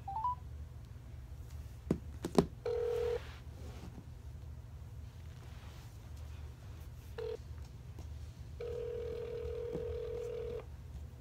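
A phone call goes unanswered: faint keypad beeps and short tones are followed by a longer steady ringback tone, all quiet under a constant low background hum.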